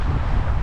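Strong cold wind gusting across an exposed camp spot during off-roading in the mountains, a steady broadband roar buffeting the microphone with no talking.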